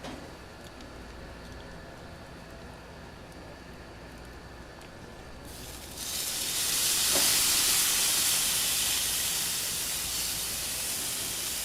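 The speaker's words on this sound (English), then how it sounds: "So now we're ready for the fish. All right, let's drop this baby on there." Fish hits a preheated, oiled grill with minced garlic: a low steady hiss of steaming gives way to a loud, bright sizzle that surges and keeps crackling steadily to the end.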